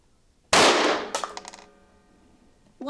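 A Colt Walther 1911 .22 rail gun pistol fires CCI segmented ammunition at a range, one loud sharp report followed by a quick echoing second crack and fading ring, with no voices.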